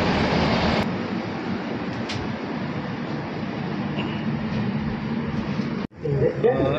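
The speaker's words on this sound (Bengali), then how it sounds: "আর আওয়াজ হচ্ছে ডিজেলের, মানে এটা পুরো ডিজেল অপারেটেড ইঞ্জিন" A Great Western Railway diesel train engine in the UK rumbles loudly and steadily close by, a deep continuous drone that dips abruptly near the end.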